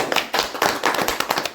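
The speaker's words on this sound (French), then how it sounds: "On peut s'applaudir, oui." A French television studio audience claps briefly at a graduation-themed broadcast, loud, close and uneven bursts of hand claps with a few heavier slaps mixed in.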